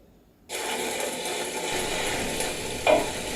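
A spoon stirs and mixes thinly cut yellow squash into a stew in a pot. The steady scraping and shuffling are moderately loud, with a brief sharper clink near the end.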